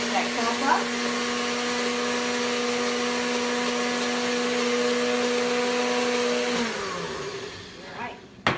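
A blender whirs steadily, mixing kelp into a frozen blueberry dog treat mixture, a loud continuous motor drone that winds down and stops near the end.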